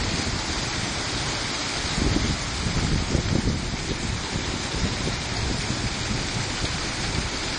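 Hail falling during a storm in Bogotá makes a dense, continuous rattling hiss of countless small impacts, steady and moderately loud throughout, with a slightly heavier patch in the middle.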